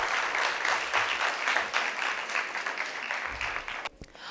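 A school debate audience gives a sustained burst of loud, dense applause at a high school semi-final between Moi Forces Academy and The Alliance High School, fading out abruptly near the end.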